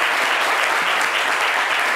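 An audience claps steadily in welcome for a schoolteacher at a school event, dense continuous applause at even loudness with no pauses, heard alone without voices.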